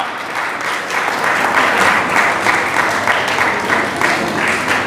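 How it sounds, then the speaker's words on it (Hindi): A crowd of students and listeners applauds prize-winning pupils at a school results ceremony, loud sustained clapping with gentle swells, continuous and close throughout. "क्लैपिंग कम है, क्लैपिंग ज्यादा"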